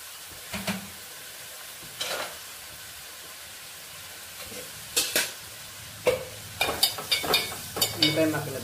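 Onion and green chilli pieces fry in a pan for a ridge gourd curry, a faint sizzle broken by intermittent scraping stirs that grow more frequent toward the end.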